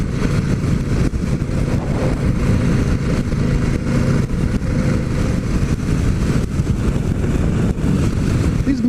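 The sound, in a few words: 2018 Harley-Davidson Sportster 1200 Iron motorcycle riding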